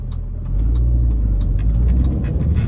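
A 2005 Mini Cooper Park Lane takes a corner at speed, with a steady low engine drone and road rumble heard from inside the cabin, the engine note rising slightly mid-turn, with light ticks and rattles and no talking.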